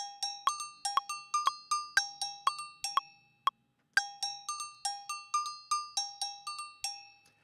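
A bell loop warped and quantized in Ableton, with bright metallic dings in a steady tempo-locked pattern, close and clean, pausing briefly halfway before repeating, with no voices.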